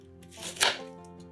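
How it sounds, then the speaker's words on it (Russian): A knife chops through a small head of red cabbage on a cutting board: one crisp, close cut with a couple of lighter taps around it. "Берем один небольшой кочан краснокочанной капусты и нарезаем ее небольшими кусками."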